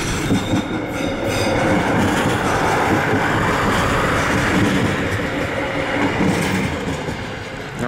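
A Südwestbayern regional train at Wasserburg station rolls past with a loud, continuous rumble of wheels on rail, steady clatter and a faint metallic squeal throughout, close by and with no talking.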